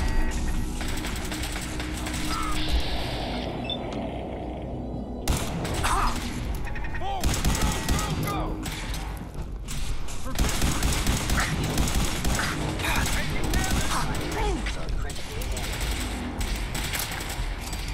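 Gunfire in the post-apocalyptic game Fallout 4, heard as a dense, continuous wall of shots and bursts over eighteen seconds, with repeated sharp cracks, mechanical noise and a voice talking underneath.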